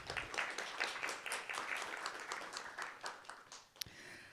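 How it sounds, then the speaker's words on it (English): A church gathering applauding its candidates, with a faint, distant round of clapping that holds steady and then tapers off toward the end. "So can we just give the candidates a round of applause?"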